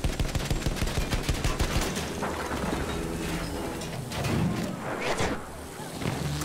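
Rapid gunfire and heavy blasts from a tank battle in Battlefield 1, a dense burst of shots at first, then continuing booms and rumble under wind-like noise, loud and close.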